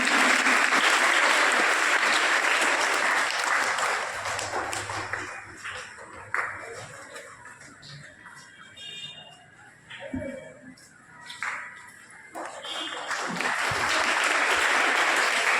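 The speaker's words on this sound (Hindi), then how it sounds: "लोग जी सर को जोरदार तालियों के साथ स्वागत करें।" Loud, sustained audience applause welcoming a guest at a girls' school event, starting at full strength, thinning into scattered claps midway, then swelling again to a full ovation at the end.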